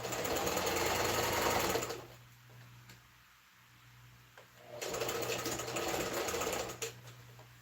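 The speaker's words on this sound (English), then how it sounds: "Why is it that it's now I want to sew this thing is misbehaving?" A sewing machine stitches a man's shirt while misbehaving and being adjusted, running loud and close in two steady bursts of about two and three seconds with a quieter pause between them, and no talking.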